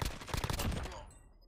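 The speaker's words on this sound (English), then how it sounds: "Where is he shooting you from?" Rapid automatic gunfire in Call of Duty: Warzone, a loud close burst of shots that tails off into quiet within about a second.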